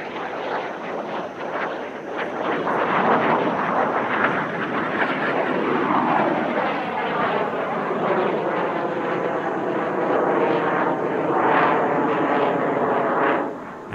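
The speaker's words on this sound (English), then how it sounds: "One aircraft approaches from either direction before they cross" Al Fursan aerobatic jets at the Dubai Airshow approach from opposite directions and cross, their engines building to a loud, sustained roar that sweeps in pitch as they pass, with no voices.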